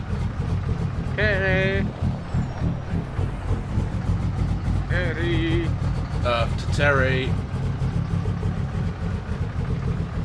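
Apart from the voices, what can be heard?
truck engine idling, Euro Truck Simulator Cummins sound mod video game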